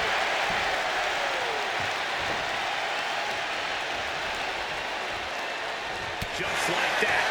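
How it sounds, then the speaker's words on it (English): Steady roar of a large arena crowd at a WWE 2K25 wrestling match, loud and continuous with a brief thump near the end, carrying on without spoken words. "What a raucous crowd here tonight"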